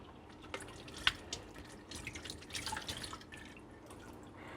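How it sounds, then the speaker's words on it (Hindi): Hands are washed under a running kitchen tap, with a faint, steady wash of splashing water and scattered drips; no one speaks. "मैं हाथ धो लेती हूँ"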